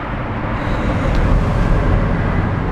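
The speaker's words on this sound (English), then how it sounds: "It's all that highway noise you hear above us." A loud, steady roar of Interstate 85 traffic heard from underneath the highway, a broad rumbling wash overhead that swells slightly but never breaks, with no voices.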